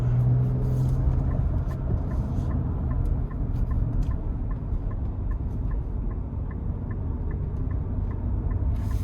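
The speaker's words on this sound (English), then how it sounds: "I am gonna put it into the sport mode and see how it gets up to speed" A 2026 Nissan Armada Platinum 4WD accelerates in sport mode onto an interstate, heard from inside the cabin as a steady low engine rumble and road roar with a faint regular ticking.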